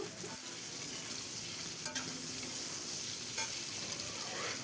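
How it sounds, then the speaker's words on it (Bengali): Onions frying in oil left over from frying katla fish, a continuous close sizzle with occasional scraping stirs and a couple of sharp clicks against the pan. "এবার পেঁয়াজটাকে খুব সুন্দর করে লাল লাল করে আমরা ভেজে নেব"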